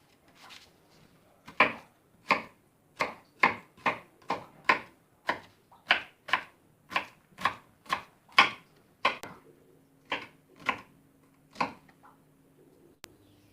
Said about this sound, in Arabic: ودلوقتي هنقوم بتقطيع البصل برضو مربعات صغيرة